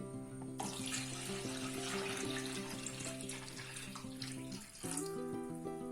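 Second coconut milk poured into a pan of parippu pradaman, a Kerala lentil payasam, giving a steady splashing, sizzling pour that runs almost the whole time, briefly dipping near the end over a low kitchen hum.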